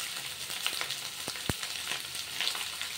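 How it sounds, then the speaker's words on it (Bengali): Food fries lightly in a pan with a soft, continuous sizzle, close by, broken by a few faint stirring taps and one dull knock. "একটু হালকা লাল করে আমি ভেজে নেব।"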